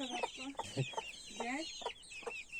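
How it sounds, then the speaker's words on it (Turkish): Near a village garden, a rooster gives a series of short, faint clucks with soft murmuring and background noise underneath. "Horozumuz var burada."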